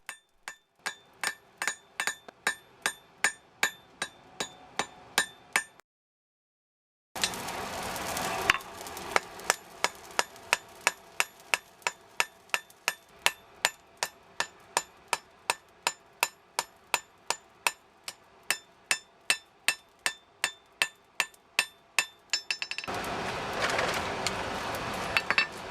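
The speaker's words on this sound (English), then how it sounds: "Once the basic shape was established, it was then drawn out using a crosspeen and smoothed over." A hammer forges a knife from old rusty wood saw steel, steady ringing blows struck one after another near and loud, some pauses between runs, drawing out with a crosspeen and smoothing the blade.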